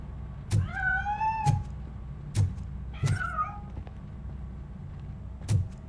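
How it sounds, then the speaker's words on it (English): A cat meows in the RoboCop: Rogue City video game: two drawn-out, rising meows stand out over a low steady hum, with a few sharp thumps and clicks scattered around them. "That cat must be hiding inside."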